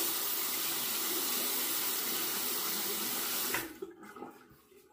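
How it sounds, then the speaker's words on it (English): Water from a tap runs steadily and loudly over a Treet Starline razor in a sink, then cuts off near the end, leaving a few drips and light clatter. "it's time to rinse again"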